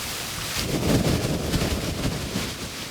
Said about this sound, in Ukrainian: Ну вітер, вітер гоне траву